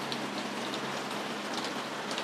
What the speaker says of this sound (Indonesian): Lagi hujan deras ya, Mas.